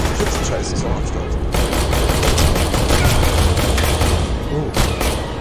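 Loud, rapid bursts of gunfire from the Aliens: Colonial Marines video game, near-continuous volleys of shots filling the whole stretch with no talk over them.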